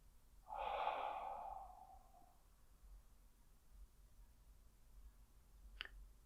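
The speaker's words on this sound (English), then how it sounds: "Exhale all the air out." A person exhales deeply during a guided breathing exercise, one long breathy out-breath lasting about two seconds near the start, close and fairly soft, followed by quiet with a brief click near the end.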